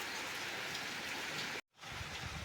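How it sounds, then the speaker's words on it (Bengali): Steady heavy rain pours down during a stormy day with thunder and lightning, a dense continuous hiss broken by a brief dropout before resuming just as loud. "সকালবেলা থেকে যেরকম বৃষ্টি চলছে আর সেরকম মেঘ ডাকছে আর বিদ্যুৎ চমকাচ্ছে মানে জোরে জোরে"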